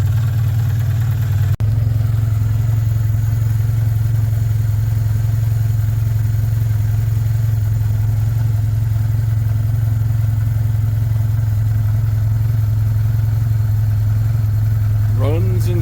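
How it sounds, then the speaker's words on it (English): 1994 Toyota Corolla engine idling steadily with a new exhaust header, a loud continuous low rumble close by that holds even for the whole stretch, with a brief click early on. "Runs and sounds way better with this new header than it did with the busted manifold."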